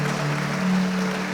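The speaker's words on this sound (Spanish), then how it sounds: "Dale un fuerte aplauso al Señor. Fuerte, fuerte aplauso al Señor." Congregation at a Sunday church service applauding loudly for the Lord, a steady wash of clapping over a sustained keyboard tone.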